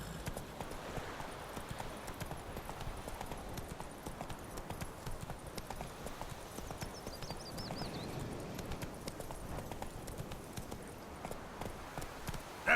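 Roach, a horse in The Witcher 3 video game, trots with a steady, continuous clip-clop of hooves, moderately loud and close throughout, with a brief faint whistle-like tone partway through.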